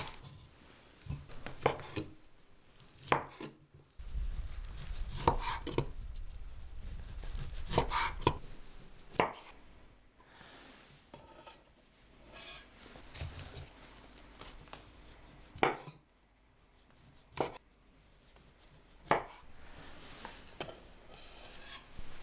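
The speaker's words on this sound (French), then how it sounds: "Je les coupe en fines tranches" Knife chopping through cooked, cooled pork on a board, cutting it into thin slices: repeated sharp cuts at an uneven pace, close up and fairly quiet, with low thumps of handling and no speech.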